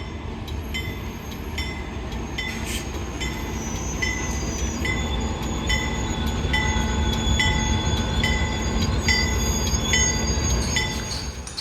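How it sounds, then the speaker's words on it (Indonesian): Locomotive of the Tawang Alun train turning on the turntable at Bangil station, with a continuous loud metallic rumble, repeated clanks and high squeals from the wheels and machinery. "melihat proses lokomotif putar di turntable stasiun Bangil"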